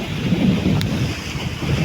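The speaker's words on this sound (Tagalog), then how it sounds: "medyo maingay marinig siguro nyo ang hangin" Strong wind buffets the microphone in a constant low roar, with a brief sharp click partway through and no voices.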